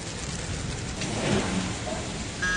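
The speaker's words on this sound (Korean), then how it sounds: "빗방울이 굵어지는데요" Heavy rain pours steadily and loudly across the whole stretch, a dense constant hiss with a low rumble of thunder building slightly in the middle; no voices.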